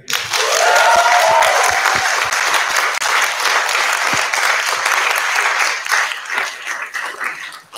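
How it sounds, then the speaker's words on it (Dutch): A live audience claps loudly and steadily for the authors at a queer zine presentation, a dense wash of applause with a few whoops early on, gradually thinning toward the end. "een gigantisch groot applaus voor de auteurs van Cuticle 2020"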